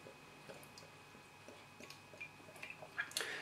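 Quiet, irregular fizzing and crackling with tiny ticks and pops from York Brewery Yorkshire Terrier beer in a bottle, growing busier toward the end.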